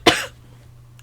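A single sharp, close cough, followed by quiet with a low electrical hum underneath.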